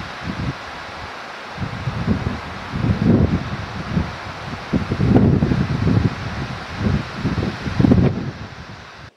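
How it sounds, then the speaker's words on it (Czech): Strong mountain wind roars in repeated loud gusts across an exposed saddle near Ždánidla peak in the Šumava mountains, buffeting close to the microphone. "zdání klame, protože skutečně fouká velký vítr"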